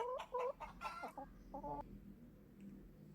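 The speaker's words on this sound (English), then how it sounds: "A hen clucks." A hen clucks several times in quick, close succession, with short throaty calls followed by a pause and one more cluck, fairly quiet against a soft farmyard background.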